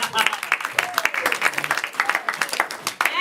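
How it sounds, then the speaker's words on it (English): An audience claps for a contestant at a New Year's Eve game-show event, a dense patter of hands filling the room while voices talk and call out over it. "Clap for Alex, everybody"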